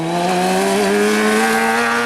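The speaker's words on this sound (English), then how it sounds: "There's a motorcycle right there as I speak." A motorcycle on a desert road near Tucson roars past close by, its engine whine rising then bending down in pitch as it goes by, loud and continuous with no talk.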